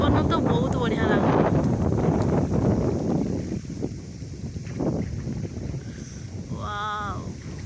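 Outdoor wind beside water buffets the microphone in a heavy, low rumble, strongest early and easing later, with faint voices and a brief exclamation near the end.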